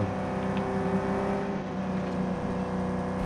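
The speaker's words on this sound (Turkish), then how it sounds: "Araba sürüyorum" Video-game car engine from PUBG driving along, a steady loud drone with a slight rise in pitch, continuous throughout and no talk over it.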